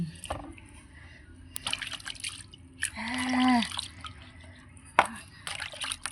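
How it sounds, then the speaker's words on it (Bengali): Water poured over a small idol of Madan Mohan (Krishna) during a sunny outdoor bathing ritual, heard as soft drips and a brief trickling splash midway, faint and close, with light background noise and a sharp knock near the end. "প্রথমে মদনমোহনকে বসিয়ে দিয়েছি স্নান করবার জন্য"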